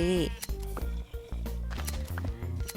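A sheep bleats in Minecraft, one wavering bleat right at the start, followed by steady in-game sounds and short clicks from a survival world.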